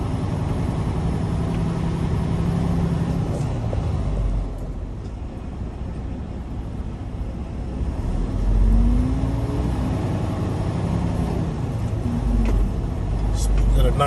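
A semi truck with trailer reverses slowly into a loading dock door, its diesel engine rumbling steadily at close range with a brief revving rise midway, while someone talks over it.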